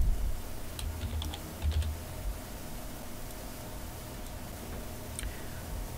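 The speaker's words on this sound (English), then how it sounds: "Finally, we'll enter Paul for the last name." Keys clack on a computer keyboard as a name is typed, a short run of quiet, close taps with brief pauses over a soft background hiss.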